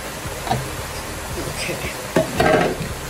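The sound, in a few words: sautéing celery and onion vegetables in a pan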